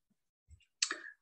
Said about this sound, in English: So if we click over here,